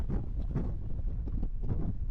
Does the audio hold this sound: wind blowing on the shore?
yes